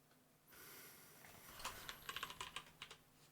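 Quiet, close typing on a computer keyboard while playing Wordle: a burst of irregular key clicks over a faint background hiss, with no voices.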